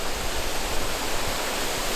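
Sioux Falls waterfall in winter, partly frozen over with icicles, pours as a steady, dense broadband roar that is unbroken and evenly loud throughout.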